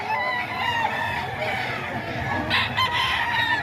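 A farmer's rooster crows close by among hens and cocks kept for sale in Bocaue, with clucking chickens around it in a continuous, busy run of calls.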